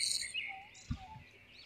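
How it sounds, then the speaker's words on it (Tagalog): Birds on Minasawa island in Quezon province give brief high chirps and whistles, fairly faint against quiet insect-like background, with a short low thump midway. "kakaibang huni ng ibon dito."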